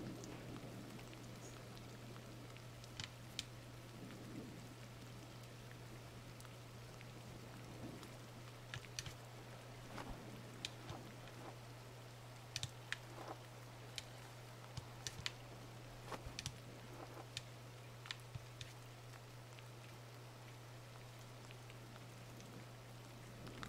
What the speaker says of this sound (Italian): È iniziato anche a piovere.